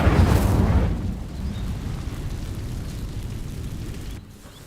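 An Incendio fire spell in Hogwarts Legacy goes off as a loud, deep burst that rumbles and fades over a few seconds into low ambience.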